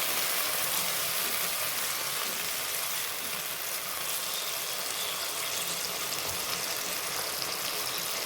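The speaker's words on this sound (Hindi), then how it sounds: "अब इसमें मैं 3 से 4 चम्मच पानी के ऐड करूँगी।" Chicken frying in a pan hisses in a loud, steady, broad sizzle after a few spoonfuls of water hit the hot oil, continuing evenly throughout with no talking.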